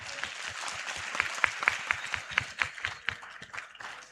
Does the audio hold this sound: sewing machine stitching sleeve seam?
no